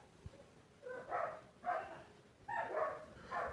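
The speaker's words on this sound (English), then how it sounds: "do not mind the sound of my dogs" Dogs bark indoors in four short, muffled bursts spaced about a second apart, fairly faint and somewhat distant.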